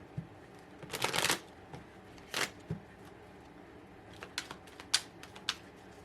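Tarot cards are shuffled and drawn during a reading, giving several quick riffling bursts and soft flicks, near and fairly quiet, with pauses between and no talking.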